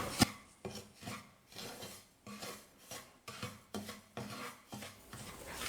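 Semolina dry-roasted in a pan for a coconut sweet, stirred with steady scraping and rasping strokes in a repeating rhythm of about seven passes, close and clear with no talking.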